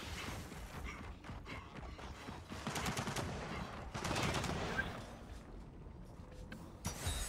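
Automated turrets in Gears of War 4 firing bursts of rapid gunfire with mechanical clanks, swelling into heavier volleys midway, loud and close with no talking.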